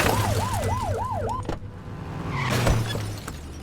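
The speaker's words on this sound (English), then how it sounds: "Get behind them and flip the siren and make it forward" A wailing police siren from the video game The Precinct sweeps up and down in fast, regular cycles for about a second and a half. A low engine drone runs beneath it, followed by a short rise in street and traffic noise.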